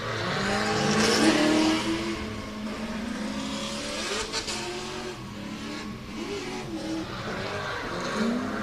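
A race car drifts through a track's outer zone at a 2024 $5k Shootout road race, its engine roaring loudly and continuously with tire skidding and squealing throughout, close and unbroken.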